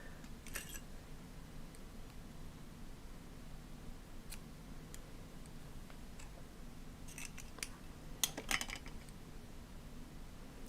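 Scissors snip yarn several times during a live knitting session: sharp, brief metallic cuts against a low room hum, with a cluster of quick snips near the end.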